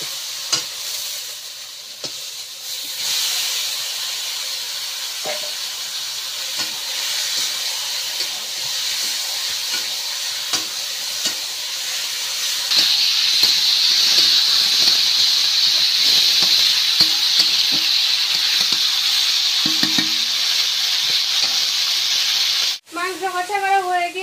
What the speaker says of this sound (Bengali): এবার মাংসটা দিয়ে দেবো কড়াই।